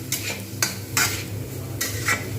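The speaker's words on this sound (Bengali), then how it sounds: "রাইসটাকে আমি কিন্তু এরকম করে ভালোভাবে ভাজবো।" Cooked rice stir-fries in a pan with vegetables for mixed fried rice: a low sizzle runs under several sharp scraping strokes of a spatula against the pan, close up, with no voice.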